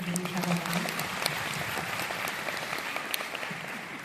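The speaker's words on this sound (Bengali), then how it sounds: "একটা জোরে হাততালি হয়ে যাক" Steady applause from a concert audience at a centenary music event, a broad continuous wash of clapping that follows a brief voice at the start and runs evenly to the end.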